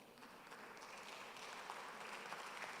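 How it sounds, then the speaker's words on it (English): Steady applause from an audience at a church Father's Day celebration, a dense, even patter of many hands clapping at low level that continues throughout. "Please clap for him."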